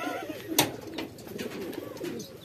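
Racing pigeon cooing softly after arriving back at its loft, low throaty coos repeating close by with a sharp knock and light background rustling.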